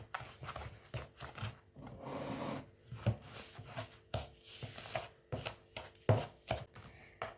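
A spoon or spatula works donut batter into flour in a bowl, producing rhythmic scraping, thudding strokes close up with short pauses between bursts.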